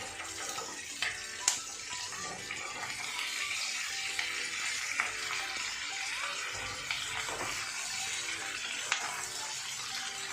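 Capsicum and chilli fry on top of onions in a pan for chilli paneer, giving a steady, moderately loud sizzle with occasional crackles and small clicks of stirring throughout, and no talking.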